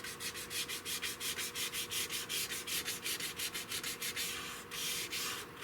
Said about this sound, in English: you got to sort of sand with the grain